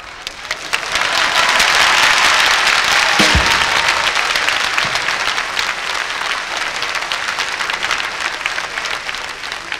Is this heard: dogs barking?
no